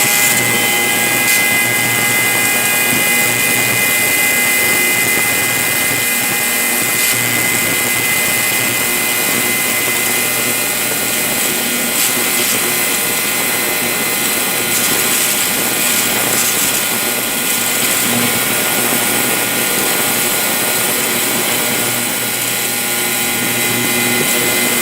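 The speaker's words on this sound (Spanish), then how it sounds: "mismo laboratorio va a estar mandando pulsos para abrir y cerrar el inyector a diferentes velocidades" A GDI fuel injector cleaning machine fires pulses that open and close the injectors at varying speeds, producing a loud, steady, dense mechanical buzz and whine that runs continuously without a break.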